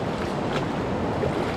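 Rushing river water runs steadily by a riverbank in the countryside, a broad continuous wash with light wind noise over the microphone, no voices.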